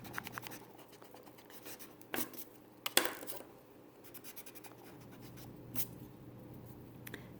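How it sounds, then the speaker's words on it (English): Marker writing being erased from a classroom board in a math lesson, heard as scattered dry rubbing and scratching strokes with a few sharper bursts, fairly close and quiet, with no talking. "I'm going to just erase this so that it comes down and looks a little neater"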